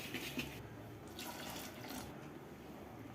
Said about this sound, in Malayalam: ജാറിൽ കുറച്ച് വെള്ളം ഒഴിച്ച് അത് ഒഴിച്ച് കൊടുത്ത്